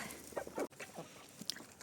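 Chickens cluck close by in short, scattered bursts, with a brief click in the middle and quieter pecking sounds between calls.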